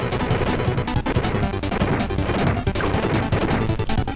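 Rapid repeated missile fire and explosive impacts pound a boss in Kirby: Nightmare in Dreamland, a loud, dense, chaotic barrage of retro game sound effects that never lets up.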